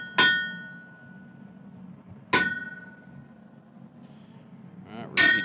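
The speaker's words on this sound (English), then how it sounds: "we'll start pounding out those divots from the cross peen." Cross peen hammer blows pounding divots into steel for a firesteel: three loud, close metallic strikes spaced a couple of seconds apart, each ringing briefly before fading into a low background hum.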